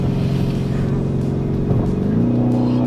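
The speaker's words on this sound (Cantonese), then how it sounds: "喂，等我踩一啖油試下先啊！" A Lamborghini Urus Performante, a large 666-horsepower SUV, accelerates hard with a loud, steady engine roar that climbs in pitch near the end as it gains speed.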